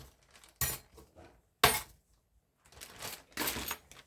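A bunch of keys is dropped into a bag in several bursts, with metallic jingling and clinking heard close up, separated by short quiet gaps.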